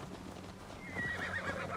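A horse in the video game Assassin's Creed Valhalla gives a loud, close whinny over steady clip-clopping hooves, set against continuous game background noise with no speech.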